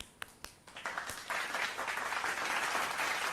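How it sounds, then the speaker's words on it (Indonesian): A talk show audience starts with a few sharp separate claps, then swells into dense continuous applause that builds and holds toward the end. "Boleh tepuk tangan."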